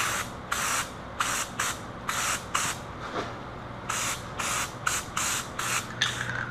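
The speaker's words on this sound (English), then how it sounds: "I'm gonna go ahead and spray these tips to get them drying, get them ready to glue in" A spray can hisses onto snorkel pipe tips in a string of about ten short, close bursts with brief gaps between them, loud and crisp against a quiet background.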